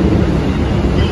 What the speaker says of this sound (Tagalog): Ayan na po ang MRT-7 Railways